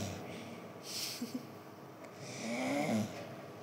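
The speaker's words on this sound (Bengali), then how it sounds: "তোমাদের দাদাভাই এদিকে নাক ডেকেই চলেছে" A man snores softly nearby in a quiet room, with one long rasping inhale and a short snort before it, fairly faint overall.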